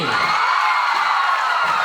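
Audience at an Assamese comedy show claps and cheers steadily, a dense wash of applause and whoops filling the whole moment at moderate loudness.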